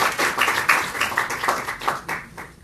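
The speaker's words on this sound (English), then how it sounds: "can we give it a huge round of applause to Sean?" An audience at a marriage retreat applauds Sean, a brisk run of overlapping claps close by that fades toward the end.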